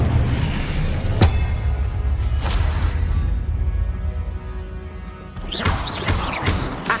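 The Incendio fire spell being cast in the video game Hogwarts Legacy: loud, rumbling booms and whooshing bursts repeat over a dense, continuous game soundscape, with a sharp crack near the start and a flurry of bursts at the end.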